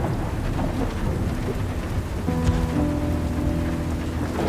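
A thunderstorm pours steady, heavy rain over everything while deep thunder rumbles build and roll, loud and enveloping, with no voices.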